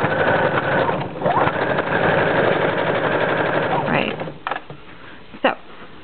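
A sewing machine runs steadily while stitching a blind hem, a continuous mechanical whir with a few brief stops and restarts toward the end, heard up close.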